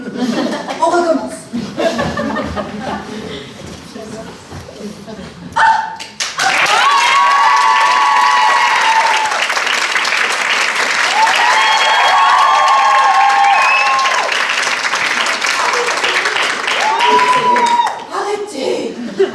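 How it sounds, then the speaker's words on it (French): A theater audience at a live stage show claps and cheers loudly and steadily for about twelve seconds as a performer enters, following a stretch of talk and scattered laughter. "Quand je rentre sur scène, vous applaudissez."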